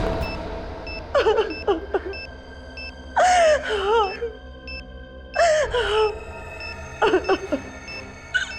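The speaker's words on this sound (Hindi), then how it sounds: "रोने की आवाज?" A person sobbing and wailing in short broken bursts, four distinct crying fits separated by pauses, heard over a faint electronic tone and background hum in a tense television crime drama scene.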